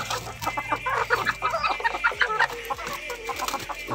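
Rhode Island Red and Black Australorp hens cluck and chatter busily together close by, a dense overlapping stream of short calls with a faint low hum underneath.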